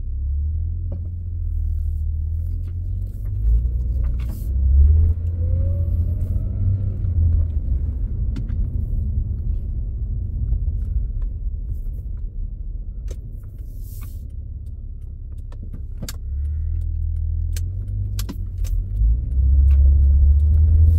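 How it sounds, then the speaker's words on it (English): A 2004 Acura TL with fresh Amsoil OE transmission fluid driving through a neighborhood, heard from inside the cabin as a steady low engine and road rumble with faint interior rattles and clicks. "We're just going to drive around the neighborhood."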